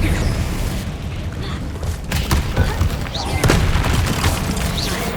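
Explosion spells cast during Hogwarts Legacy gameplay: deep booming blasts and thuds with bursts of crackle, loud and continuous over a dense game soundscape, with a player calling out spell names over it.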